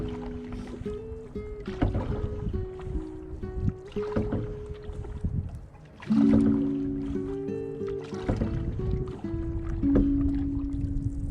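A canoe is paddled across Canoe Lake in Algonquin Park in early spring after ice-out, with close water splashes and drips from each stroke in an irregular rhythm over soft wind.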